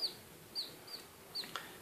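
A hen with four newly bought black chicks gives soft, faint clucks and high peeps, scattered through a short, quiet stretch with no talking.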